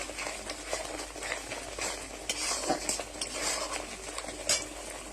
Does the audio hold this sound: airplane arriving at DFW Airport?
no